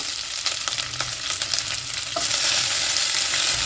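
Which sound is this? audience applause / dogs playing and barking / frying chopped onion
frying chopped onion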